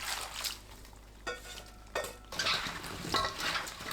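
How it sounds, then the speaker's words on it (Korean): Salted radish chunks tossed and mixed by hand in a bowl for kimchi, with wet rustling, scraping and light clinks of the bowl in close bursts. "무 위에 뿌리고 골고루 섞어줍니다"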